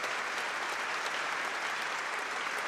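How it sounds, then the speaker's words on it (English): Steady, dense applause from many hands clapping at once, continuous and fairly loud throughout, with no voices standing out. "round of applause is really long"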